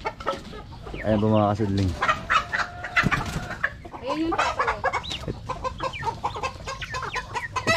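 Dong Tao dragon-feet chickens cluck and call loudly at close range on a farm, with one drawn-out harmonic squawk, while someone speaks Filipino among them.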